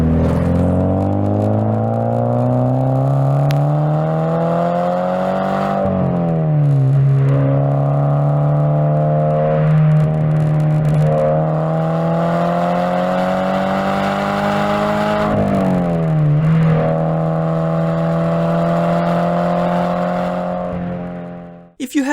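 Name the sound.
Toyota GT86 car engine and exhaust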